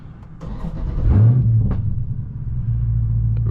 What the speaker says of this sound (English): let's go ahead and get this car started.